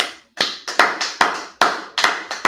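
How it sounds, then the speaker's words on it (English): A class claps in unison, a series of about nine sharp, loud hand claps in an uneven rhythm with brief gaps between, each decaying quickly, no talking. "Okay, clap it up."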